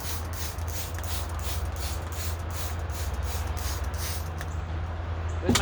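A spray bottle mists water over seed-starting trays, a series of quick, close hissing pumps in steady rhythm over a low background hum.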